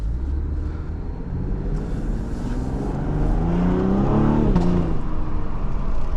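A 2021 Cadillac CT5 Premium Luxury's 3.0L V6 revs loudly from inside the cabin, climbing in pitch and then dropping as the transmission shifts from first to second gear under hard acceleration.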